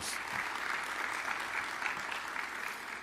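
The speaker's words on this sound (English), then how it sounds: "Please give him a round of applause" A seated audience at a Morehouse College Crown Forum applauds the National Alumni Association's Kevin McGee, steady dense clapping filling the hall for about three seconds with no talk over it.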